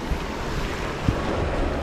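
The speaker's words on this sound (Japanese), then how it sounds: "この白波が立ってるところとか" Whitewater rushes in a mountain trout stream, a steady, broad hiss of churning water filling the short stretch with no voices, one faint knock partway through.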